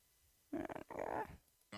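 A dog growls close by in two rough, rumbling bursts with a brief gap between them, followed by a short sharper sound at the end.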